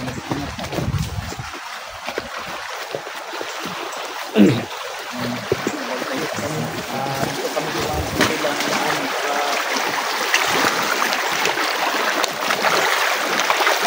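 A flowing mountain creek, continuous broad rushing water close by with a brief splash, while people talk faintly over it.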